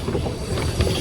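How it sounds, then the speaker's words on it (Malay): A boat ride on the Terengganu River in Malaysia, with a low rumbling motor and water wash plus some wind buffeting on the microphone, steady and close, no talk. "Kita naik bot ini boh."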